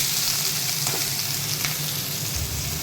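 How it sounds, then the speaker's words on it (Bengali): Nigella seeds with one dried red chilli and one green chilli fry in hot mustard oil, giving a steady, close sizzle with a dense crackle that holds even throughout, with no talking. "আমি এটা আগে নর্মালি ভাজবো, ওটা অন্য কিছু দেবো না।"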